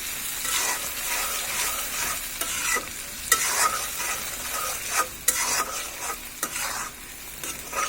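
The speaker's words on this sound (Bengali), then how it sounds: "এটাকে ভালোভাবে আবার নেড়ে চেড়ে দিচ্ছি।" Garlic achar mixture stirred in a hot pan, continuous frying sizzle broken by repeated scraping strokes of a spoon against the pan, close and steady with no talking.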